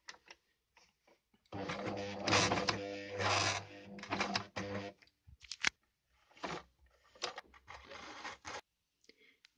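A sewing machine runs stitches along a drawn line on fabric for a cloth bookbinding cover, in bursts of mechanical whirring that stop and start across the clip, with no talk over it.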